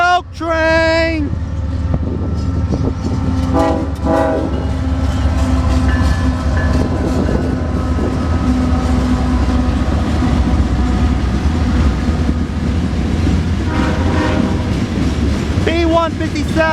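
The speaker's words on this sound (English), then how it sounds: "Coke train!" A CSX westbound coke train rolls past close by in Fostoria, Ohio, a loud continuous rumble with rhythmic clickety-clack of wheels over rail joints, occasional squeals and a horn-like tonal burst near the start and end.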